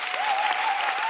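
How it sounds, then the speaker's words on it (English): A crowd applauds in a short, dense burst of clapping that holds steady throughout, with a faint tone running underneath. "give a got my huge round of applause"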